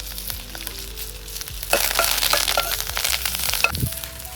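Curry leaves, green and dried chillies and garlic sizzle and crackle in hot oil for a rasam tempering, with a busy frying hiss, sharp pops and a few clinks, close and fairly loud.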